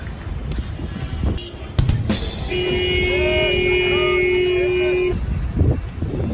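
A car horn in Egyptian street traffic blares in one long, continuous honk lasting several seconds, loud and close over the hum of busy traffic, with brief shorter toots and street noise before and after.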